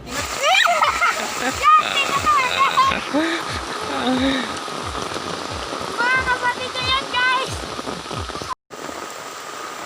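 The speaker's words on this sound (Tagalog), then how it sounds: "kitang-kita nyo naman, di ba umuulan?" Steady rain pours down outdoors, spattering and splashing on surfaces in a dense, continuous wash, with people talking over it close by.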